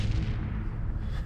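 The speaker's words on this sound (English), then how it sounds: "Wow, just look at these explosions." Cannon fire and explosions in the Battlefleet Gothic Armada space battle game, a dense, continuous low rumble of booming blasts that stays loud throughout.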